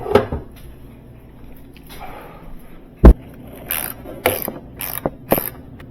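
Parts being removed from the door of a Sub-Zero 561-661 refrigerator with a tool, sparse mechanical clicks, one sharp knock and several brief scraping and ratcheting bursts at close range.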